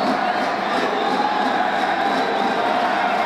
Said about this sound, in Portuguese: A torcida vem junto com o Robson Punk